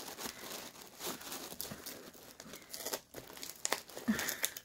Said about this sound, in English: But Jessica and RB, here is a package. All I did was open it so far